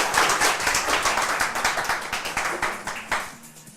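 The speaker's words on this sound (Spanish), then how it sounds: "Un aplauso, por favor, para él." A small group claps rhythmically for a few seconds, steady and close, the clapping fading slightly toward the end with no voices.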